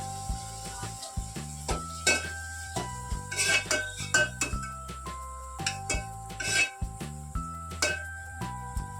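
Chopped tomatoes and onion cooking in a pan while a spoon stirs them, with a soft sizzle under repeated scraping and clinks against the metal.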